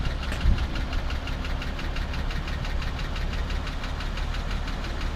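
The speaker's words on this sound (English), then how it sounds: "that's the original V12 engine in it" Original V12 engine of a 1941 Lincoln Continental 12-cylinder two-door coupe running at a steady idle, a continuous close low rumble with fine rhythmic knocking throughout and no talk.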